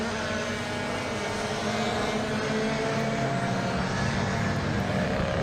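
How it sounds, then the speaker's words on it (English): BMW touring car engines race past on a circuit, a loud, steady, dense engine roar that fills the whole stretch without a break. "the sound of those BMW engines in particular, absolutely incredible"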